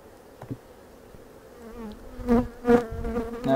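Honey bees buzz around an open hive during a frame inspection, showing pollen, honey, and drone and capped brood; a steady low hum swells into two louder, closer passes near the end.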